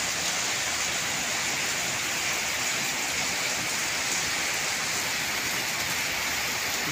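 Heavy monsoon downpour in September, a steady dense hiss of rain pouring down without break, loud and close, with no voices.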